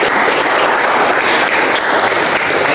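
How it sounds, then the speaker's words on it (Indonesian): Steady, dense applause from a classroom group fills the whole stretch, even and sustained without pauses or voices. "Mari kita beri tepuk tangan semuanya."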